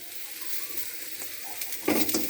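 Fish curry with potato and papaya being stirred in a pan, a soft steady sizzle with light scraping of the spoon growing a little louder near the end.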